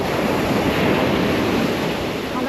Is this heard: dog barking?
no